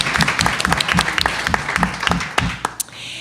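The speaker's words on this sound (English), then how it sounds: "give a round of applause to Tony." Steady applause from an audience at a talk on caregiving, many hands clapping together for a few seconds before thinning out toward the end.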